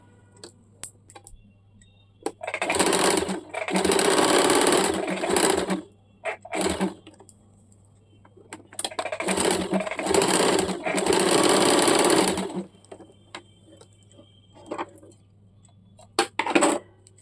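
A sewing machine runs stitches along the lining of a baby umbrella frock in two long bursts of steady whirring, with short clicks and pauses between them and a brief final run.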